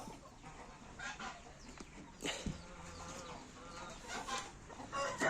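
Backyard chickens cluck and call steadily, with a louder squawk partway through, close by amid general farmyard bustle and no talk.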